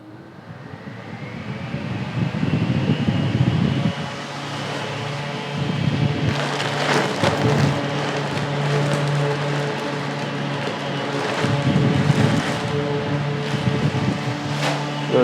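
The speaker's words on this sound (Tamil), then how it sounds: "ஆன் பண்ணும்போது எப்படி ஆன் ஆகுதுன்னு பாருங்கள் நைஸாக வந்து பார்த்தீங்கன்னா ஸ்டார்ட் ஆகுது பிஎல்டிசி மோட்டர் அப்படின்றதுனால ஸ்லோவாக எடுத்து அப்படியே ஸ்பீடாகும்" A 16-inch 28W BLDC solar table fan starts slowly, then speeds up, giving a close, continuous whirring hum with a low motor tone and a broad airy rush that grows.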